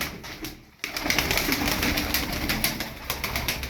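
Blue tumbler pigeons coo in a loft, a soft, continuous burbling chorus of several birds close by, with a brief quiet gap near the start and no talking.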